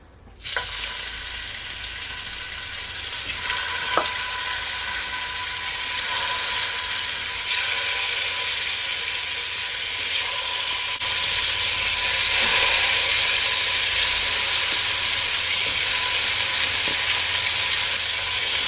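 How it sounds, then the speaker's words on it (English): Oxtail pieces dropped into hot oil in a pot for Jamaican oxtail, giving a loud, steady, close sizzle and crackle that continues without pause. "So now that my oil is all heated up, I'm gonna add my oxtail."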